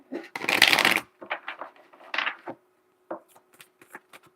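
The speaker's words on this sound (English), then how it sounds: "Let me shuffle one time." Tarot cards being shuffled by hand, a loud riffling burst followed by several shorter card slaps and taps close to the microphone.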